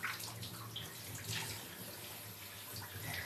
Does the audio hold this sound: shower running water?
yes